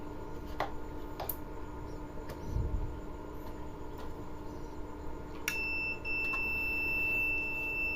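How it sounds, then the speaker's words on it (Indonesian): A REX C-100 temperature controller buzzer sounds a steady electronic beep continuously from partway through, thin and high-pitched, after a few faint clicks. "Ini menggunakan buzzer. Ini berbunyi bip."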